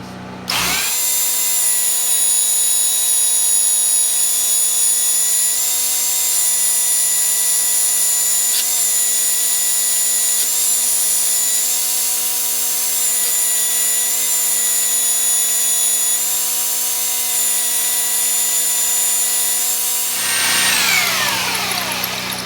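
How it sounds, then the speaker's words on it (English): A belt sander fitted with a 400 grit belt runs loudly and steadily for about twenty seconds, polishing case-hardened steel pieces with a continuous high whine and grinding hiss before spinning down, and no one speaks. "I have a 400 grit belt on here. We're going to polish up these pieces."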